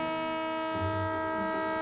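The Doğu Express, a 30-hour passenger train crossing snowy eastern Turkey, sounds a long, steady horn blast, loud and close, with rich sustained tones and a low rumble underneath.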